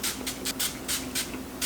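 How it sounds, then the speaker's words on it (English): Short hissing bursts of hairspray misted onto curled hair, about eight quick puffs in an uneven rhythm, close and fairly soft. "Now I'm going to spray this section with hairspray."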